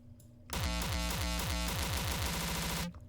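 Heavily distorted electronic kick drum, stacked with several layers of distortion, pounding in a fast, steady pattern for about two and a half seconds, loud and harsh with dense grinding noise filling the whole band, alone without talk.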